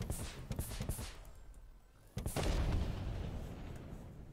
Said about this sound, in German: Hopp, ist explodiert.